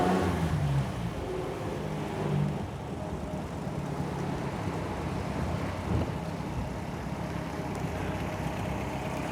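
A 1954 MG TF sports car pulls away from a stop, its engine a steady, moderately quiet drone heard from inside the car under rushing wind noise.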